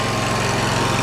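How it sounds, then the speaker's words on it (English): A John Deere 717A mower engine running at a steady drone, loud and close, with an even hum and no speech. "Well guys, we got it running. We got it doing what it needs to do. Let's go mow a little bit."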